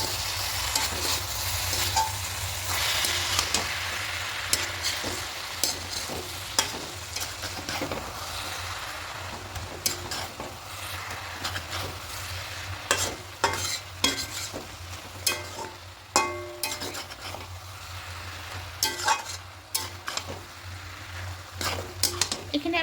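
Cabbage and minced chicken frying in a pan are mixed with a spatula, giving a constant sizzle broken by frequent scraping and clattering strokes against the metal, close up and continuing for a long stretch with no voices.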